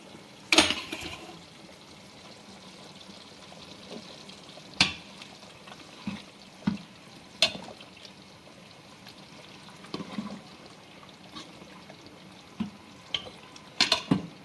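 Madurai-style fish curry simmering in a pot: a soft, low bubbling bed broken by occasional isolated clinks and knocks of a utensil against the vessel, fairly quiet and close, with no talking.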